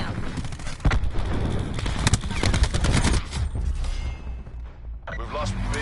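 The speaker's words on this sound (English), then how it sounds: "Cluster grenade going out." Cluster grenade blasts in Call of Duty Black Ops 4 ripple out as a run of loud, overlapping bangs and rattling gunfire, with in-game voices talking over the chaos before a brief lull.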